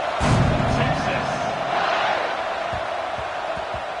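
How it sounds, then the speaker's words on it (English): A college football stadium crowd buzzes loudly after a score, a steady roar of voices with a few thumps near the end and a commentator talking over it. "this crowd is buzzing after that last score"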